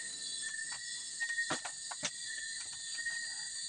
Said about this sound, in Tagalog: Napakatahimik dito sa bundok. Ang daming mga kuliglig.